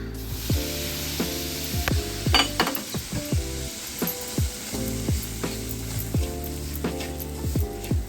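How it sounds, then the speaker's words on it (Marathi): Semolina roasting in ghee in a pan over low heat, a steady soft sizzle under repeated rhythmic clinks and scrapes of a spoon against the pan, close and without talk. "2 चमचे आता आपण तूप टाकलेलं आहे. आता हा रवा घेतलेला, वाटीभर असा रवा घेतला आहे. तो आता आपण भाजूया."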